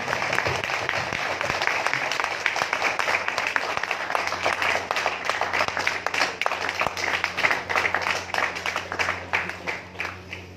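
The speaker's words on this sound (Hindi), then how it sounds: "जोरदार तालियां बजाना, जोरदार।" An audience at a kirtan claps loudly and continuously, a dense, steady roar of applause with a low hum running underneath.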